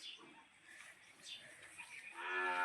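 A cow on a farm kept with buffaloes gives a faint, distant moo that swells near the end of a quiet few seconds, with some low voices in the background.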